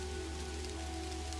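Steady rain pattering in the Kathy Rain video game, a continuous even wash of drops on surfaces with a low ambient hum beneath, no talking.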